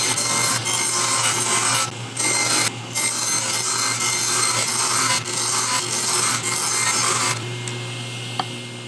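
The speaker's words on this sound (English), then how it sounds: "At a half of an inch, we're just barely cutting through the plywood." A bandsaw with a circle jig cutting through plywood makes a loud, steady rasping whine, briefly interrupted a few times before easing off near the end.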